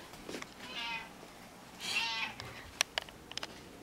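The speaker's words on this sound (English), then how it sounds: "my cat is still crying" A cat upset at being shut in a basement cries out in two long, drawn-out meows a moment apart, moderately near, followed by a few soft clicks and taps, with no talking.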